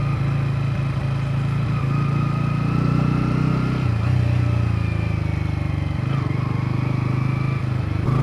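A Bajaj Pulsar N150 motorcycle being ridden, its engine a steady, close mid-pitched drone with wind rush throughout, dipping briefly around the middle and again later as if shifting.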